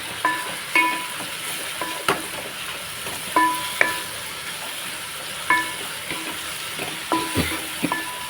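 Ginger garlic paste fries in a pan for a shrimp gongura pulao, with a steady sizzle broken by repeated scraping stirs of a spoon at a regular rhythm, close and clear with no voices.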